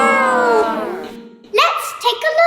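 A voice imitates a cat meowing in a long, wavering, plaintive mew during a pretend vet game, followed by a pause and then short bursts of other sounds.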